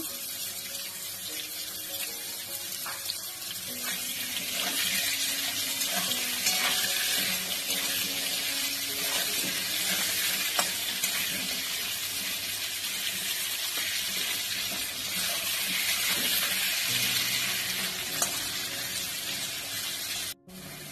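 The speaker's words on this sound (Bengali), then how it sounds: "আলু লাল লাল করে ভাজা হয়ে গেছে, দেখো" Cut potato pieces fry with a little salt in hot oil, giving a steady, moderately loud sizzle that holds for about twenty seconds, with light stirring clinks now and then.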